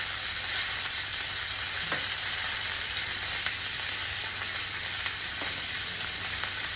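Butter added to a cast iron pan beside a searing steak, a loud, even, continuous sizzle and hiss, close and unbroken, with faint clicks and no talking.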